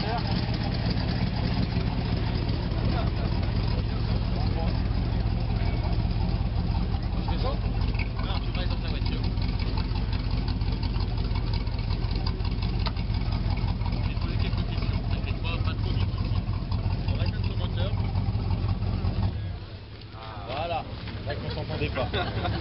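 A 1960s Chevrolet Corvette C2 Sting Ray idles with a steady, low engine rumble that runs evenly and then briefly dips near the end, while someone speaks over it.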